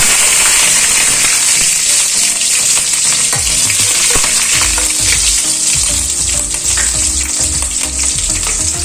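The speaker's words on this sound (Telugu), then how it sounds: "ఇప్పుడు ఇందులోకి మనం కట్ చేసి పెట్టుకున్న పచ్చిమిర్చి యాడ్ చేసుకోవాలి." Chopped green chillies hitting hot oil with tempering spices for an egg curry, a loud dense sizzle and crackle that continues steadily with stirring scrapes, close and without any talking.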